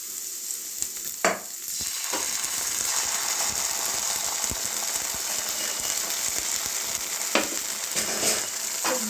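Soya chunks 65 being mixed in a hot pan as sauce goes in: continuous sizzling with repeated scraping and clacking strokes of a spoon against the pan, close and steady throughout.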